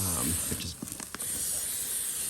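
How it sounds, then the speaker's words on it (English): Cooking spray hisses onto vegetable kebabs on a hot flaming grill, a steady loud spray running through most of the moment with a brief voice near the start. "what I'm gonna do is take some cooking spray and just carefully"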